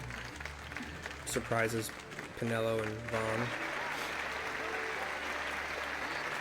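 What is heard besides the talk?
crowd applause in Final Fantasy XII video game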